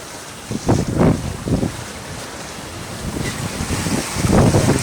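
Strong wind buffets the microphone aboard a sailboat rounding Cape Mendocino in a 15 to 20 knot breeze, with waves washing and surging alongside in loud gusty swells and no voices.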